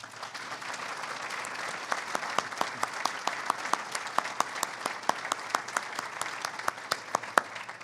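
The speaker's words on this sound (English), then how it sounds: "let's please have a round of applause for President of the Federal Reserve, Charles Evans." An audience at a 2015 Rotary economic breakfast applauds a Federal Reserve president: dense, steady clapping from a room full of people, moderately loud and sustained for several seconds with a few sharper individual claps standing out.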